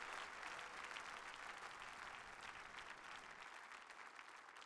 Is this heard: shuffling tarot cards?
no